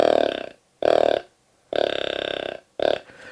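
A deer grunt call played to mimic a young buck: four short, light, guttural bursts, separated by brief pauses, close and fairly loud.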